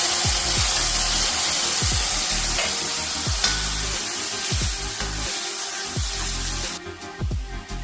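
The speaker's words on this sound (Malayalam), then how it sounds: "ഇതിലേക്ക് നമുക്ക് അരച്ച് വെച്ചേക്കുന്ന തേങ്ങ ഒഴിച്ച് കൊടുക്കാം." Ground coconut paste with turmeric frying in a hot pan, a loud continuous sizzle with repeated low knocks of a spoon stirring, easing off near the end.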